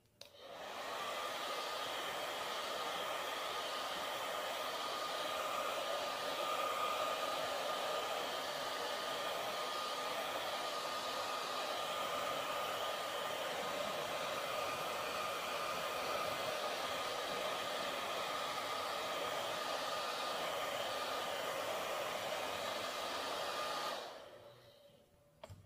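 A heat gun blows steadily on T-molding to soften it around small curves, a continuous loud whooshing hiss held without a break for about twenty-three seconds before cutting off.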